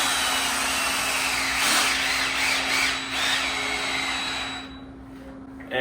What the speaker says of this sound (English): you hear the clutch on the drill, stopping it from really cranking down super hard